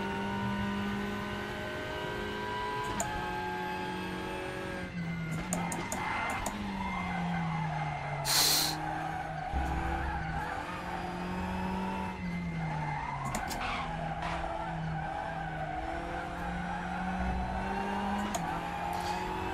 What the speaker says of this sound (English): I'm assuming the sudden squeals are as the rear tyre gets put down as you turn in